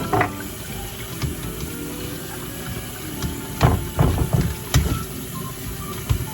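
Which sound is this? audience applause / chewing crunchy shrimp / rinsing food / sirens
rinsing food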